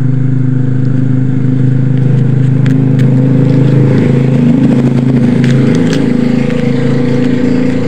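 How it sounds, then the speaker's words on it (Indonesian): Motorcycles pass along a roadside beside a Honda Vario 125 being repaired, a loud, constant engine drone with overlapping passes and brief rising revs, heard close and unbroken. "di pinggir jalan ya, jadi banyak motor yang lalu lalang"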